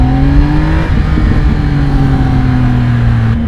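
A 2016 Triumph Speed Triple S motorcycle pulls hard under acceleration, its engine tone climbing steadily and loud, with strong wind rush throughout, heard close from the rider's position.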